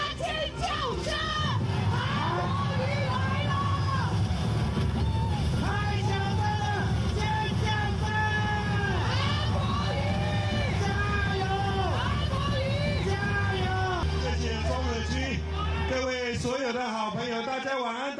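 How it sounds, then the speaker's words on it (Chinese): A large crowd at an outdoor Kuomintang political rally for Han Kuo-yu shouts and cheers continuously, many loud overlapping voices forming a dense roar that drops off near the end. "现场的朋友，掌声加尖叫声"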